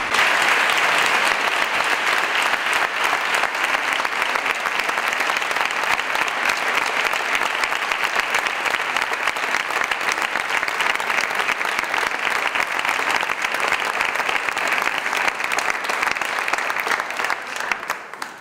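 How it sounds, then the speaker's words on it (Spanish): Loud, sustained applause from a crowd at the presentation of the Virgen del Valle's restored mantle in Écija, a thick even roar of clapping that carries on unbroken for nearly twenty seconds before fading at the end. "dar un fuerte aplauso al taller que tanto cariño y tanto amor ha dado para"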